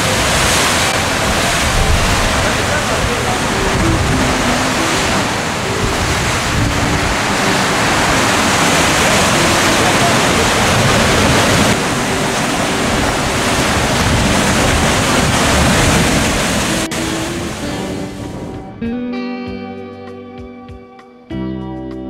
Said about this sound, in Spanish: dejando estos huecos eh, donde rompe el mar